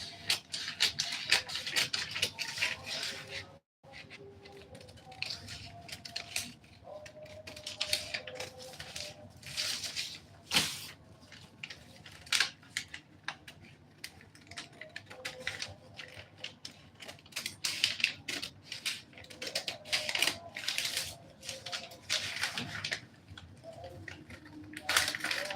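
Scissors cutting dress fabric, a long run of close, crisp snips and rustles in irregular bursts, with fabric handling noises between cuts.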